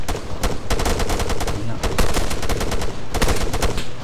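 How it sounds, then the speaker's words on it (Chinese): Gunfire in the military sandbox game Arma 3, with a sniper engaging at about 150 metres: a loud, dense string of rapid shots in tight bursts, nearly continuous across the clip, with no talk. "我被狙击手打中了"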